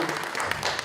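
A short burst of audience clapping at a monthly staff dharma service, dense and even, lasting under a second with no voice on top.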